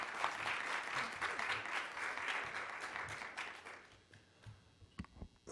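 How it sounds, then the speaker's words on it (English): Loud, dense audience applause welcoming a speaker at a talk, continuing steadily, then thinning out and fading into scattered claps near the end. "let's give him a round of applause"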